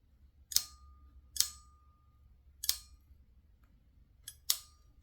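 A ratcheting crimper clamps down on an RC servo wire in four sharp, close metallic clicks spaced about a second apart, with quiet pauses between them.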